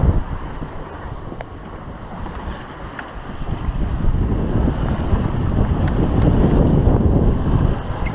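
Gusty wind roars across the microphone aboard a sailboat running under a gennaker toward Port Olímpic, rising and falling in loud waves with water and hull noise beneath, no talk.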